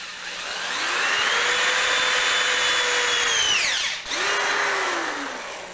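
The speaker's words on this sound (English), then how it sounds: "Got to use a 1/8 drill bit to make a tracer hole." A power drill fitted with a 1/8 bit bores a tracer hole in a lightsaber hilt, whining steadily at high speed, dipping briefly as the load shifts, then spinning up again, close and loud with no talk.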